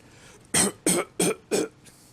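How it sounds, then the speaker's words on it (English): A person coughs four times in a quick, even series, each short burst close to the microphone and loud, with no talking around them. "that was a cough"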